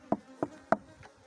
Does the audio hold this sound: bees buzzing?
yes